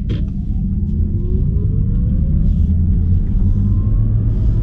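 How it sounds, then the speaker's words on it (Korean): A low synthetic electric-motor sport sound from an Audi RS e-tron GT, rising gradually in pitch as the car accelerates, heard from inside with a deep road rumble on winter tires underneath. "이 이트론 스포츠 사운드를 만들기 위해서 굉장히 공을 들였거든요"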